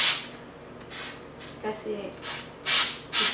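Aerosol spray can hissing paint onto an old artificial Christmas tree as a first coat, several short bursts of broadband hiss with pauses between, under nearby speech.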